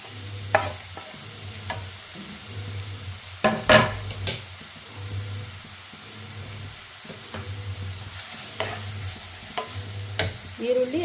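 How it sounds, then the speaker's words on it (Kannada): Chopped onion and green chilies frying in hot oil in a pan give a steady sizzle, broken by repeated scraping strokes of a spatula and a few sharp clanks against the pan. No one speaks. "ಈರುಳ್ಳಿದು ಹಸಿ ಸ್ಮೆಲ್ಲೆಲ್ಲ ಹೋಗೋವರೆಗೂ ಚೆನ್ನಾಗಿ ಫ್ರೈ ಮಾಡ್ಕೋಬೇಕು"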